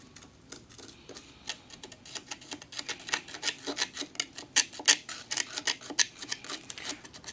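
Excess cement is scraped off a bonsai rock surface in quick, irregular gritty scratches and clicks, close and fairly faint, with no talking.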